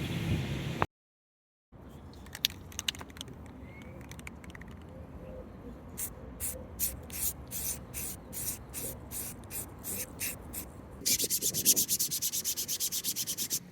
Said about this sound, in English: I'm just out here at AutoZone sanding 3D printer parts.